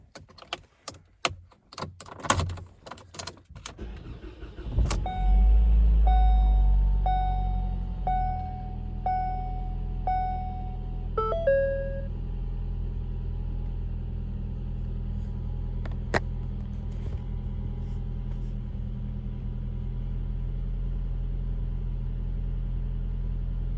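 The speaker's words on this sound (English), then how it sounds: "So the first thing I need to do is fire up the car and let it come up to temperature" A Ford car with a newly installed transmission and clutch starts after a few clanks and key jingles, then settles into a steady low idle that runs on alone while warming up, with a brief whine of a chime early on.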